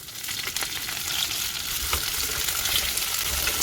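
Onions, curry leaves and mustard seeds fry in hot oil, giving a steady, close sizzle with crackling pops that builds slightly and continues throughout, with no voices.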